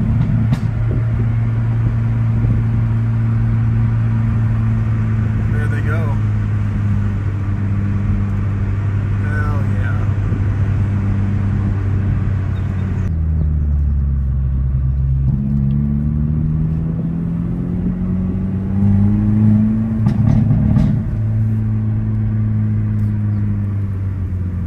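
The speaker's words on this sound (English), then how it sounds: "We caught up to the GTR and the Supra." Nissan GT-R and Toyota Supra driving together on a mountain road near Pikes Peak, a steady engine drone with a shift in pitch partway through and a brief louder rise toward the end, with talk over the top.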